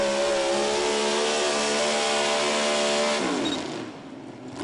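A pro pulling league truck engine runs at full throttle down the track in a loud, sustained, steady drone that holds for about three seconds, then drops in pitch and fades slightly, with no talk over it.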